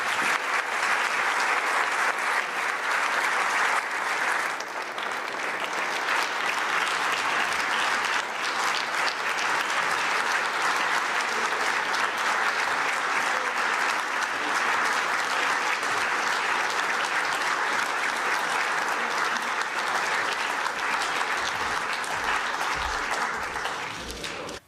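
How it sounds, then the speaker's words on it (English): A conference hall audience at the Munich Security Conference gives a long, sustained round of applause for the US Vice President, steady dense clapping throughout with no talk over it. "offer to the Vice President of the United States a warm round of applause"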